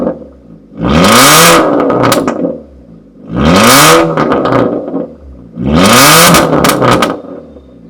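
Hyundai i20 car engine and exhaust after a cold start, revved three times in steady bursts that rise and fall, with a loud, close roar between quieter idle stretches.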